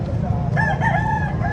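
A young rooster, a stag, crows once in a long, wavering call at a chicken expo in Carbon Public Market, Cebu City, standing out over a steady, bustling market din.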